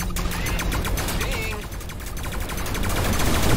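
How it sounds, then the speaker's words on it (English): A Goss cannon fires in rapid bursts in the Everspace 2 space-combat video game, a dense, continuous stream of sharp automatic shots over a steady background roar. "Oh my goodness, that Goss cannon though."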